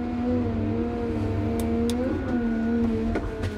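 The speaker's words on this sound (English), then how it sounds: "I can give max RPM for max speed while I'm digging" Steady, loud engine of a Cat 926M/930M/938M-series wheel loader held at high RPM while digging into a pile, with a strong constant drone and slight pitch shifts as it works under load.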